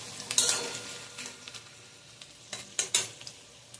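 Onions frying in a pan, a low sizzle under sporadic stirring and scraping of a utensil against the pan, with a few louder clinks near the start and toward the end.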